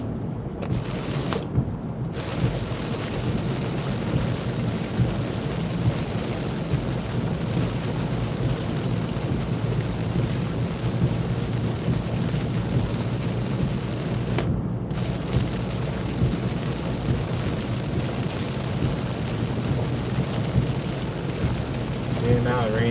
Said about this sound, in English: now the rain's kind of settled down a little bit